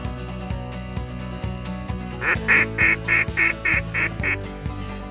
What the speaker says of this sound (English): Big, beautiful mallards and pintails.